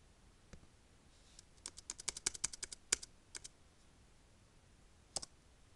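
Keys clatter on a computer keyboard in a quick burst of close, crisp taps, then a pause and a single later keystroke, with no talk.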